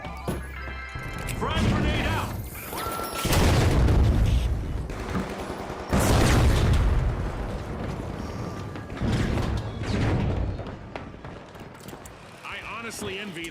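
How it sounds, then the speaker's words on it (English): Frag grenades go off in The Finals video game: loud, booming crashes stand out from a busy mix of gunfire and clattering debris, and voices come through faintly between the blasts. "Tossing a frag. Frag grenade out."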